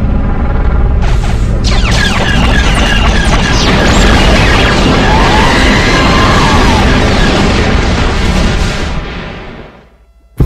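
Dense, loud rumbling explosions and blasts from battling units in Star Wars Clone Wars on the Rhen Var map, a continuous barrage of booms and crashes that fades out near the end.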